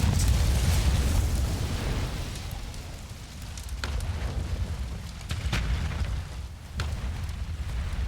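A bomb going off in a courtroom in Apollo Justice: Ace Attorney, a loud sustained explosive roar with crackling, rain-like debris and a few sharp pops that fade slightly, with no talking.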